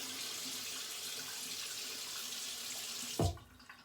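Tap water runs steadily into a bathroom sink, rinsing coconut shaving oil off, then cuts off abruptly near the end with a short thud.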